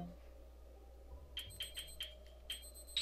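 Short electronic beeps from a timer alarm in the Zelda game Twilight Princess repeat in a quick, evenly spaced series of about six pulses, moderately clear over a faint background hum.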